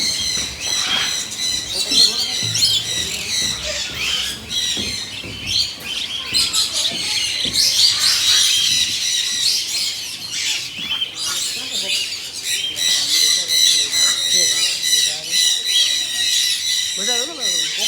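A parrot squawks and screeches repeatedly at close range while held in the hand for photos at a nature park, its harsh calls coming in rapid overlapping bursts.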